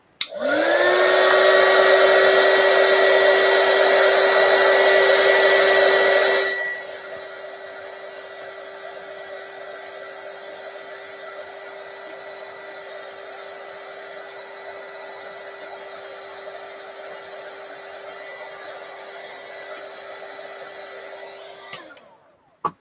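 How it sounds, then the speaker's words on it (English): A craft heat tool blows hot air to heat-set paint on a craft flower, starting with a loud, steady whooshing whine, then dropping to a quieter hum for a long stretch before clicking off. "I'm going to just heat set these so that they kind of set."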